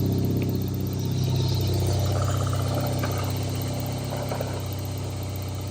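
A built turbocharged 1.6-litre Mazda Miata engine settles into a steady, close idle with a low, even rumble and faint mechanical chatter throughout, with no voices heard.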